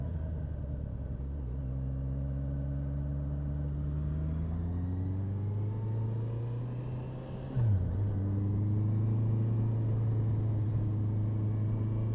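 A motorbike engine opened to full throttle, revs climbing steadily in a loud, close, continuous roar, with a brief dip at a gear change before the pitch rises again.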